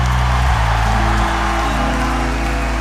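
A church congregation clapping hands in a loud, sustained wash of applause, with a low musical drone underneath.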